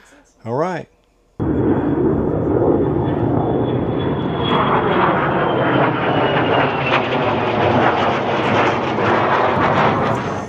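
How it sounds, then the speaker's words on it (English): A military training jet roars overhead near Nellis AFB, a loud sustained engine rush that swells in after a short spoken remark and fills the rest of the clip, with a rising whine threading through the roar. "all these jet aircraft training and whatnot"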